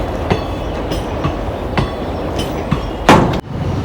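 A train rolls past close by, its wheels clacking over rail joints in a regular rhythm with a loud sharp bang near the end, steady rumble underneath and no talk.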